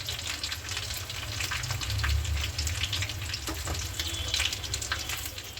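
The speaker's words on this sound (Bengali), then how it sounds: "এইভাবে আমি সবগুলি ভেজে নিব।" Potato and eggplant fritters (aloo begun) frying in hot oil, a steady bubbling sizzle running throughout with a few faint clinks, close and moderately loud, no talking.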